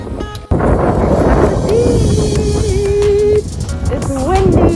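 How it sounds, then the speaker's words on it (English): Strong wind buffets the microphone at a beach on Jeju Island, a loud continuous roar that fills the whole stretch with a brief drop near the start, while a voice speaks over it. "It's windy, but we're here."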